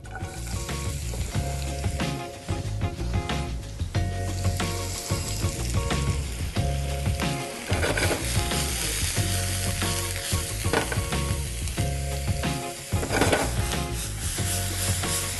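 Sliced onion and pepper fry in a hot pan with a little olive oil, giving a loud, steady sizzle with frequent scraping and stirring clatter throughout, no voices.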